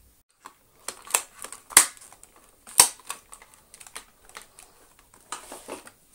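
A plastic part on a Dyson DC07 vacuum is worked into place, giving a run of sharp, close clicks and snaps at irregular intervals, a few of them louder than the rest.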